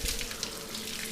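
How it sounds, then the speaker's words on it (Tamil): A tap runs steadily during washing for ablution, a close, continuous splash of flowing water filling the whole brief clip. "லேசாக பைப்பு இன்னும் கொஞ்சம் குறைக்கணும், இன்னும் கொஞ்சம் குறைக்கணும்"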